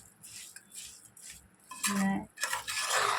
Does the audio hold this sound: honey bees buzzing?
no